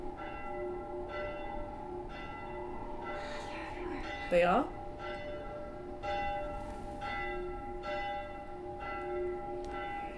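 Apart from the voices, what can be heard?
alert bell ringing in video game The Last of Us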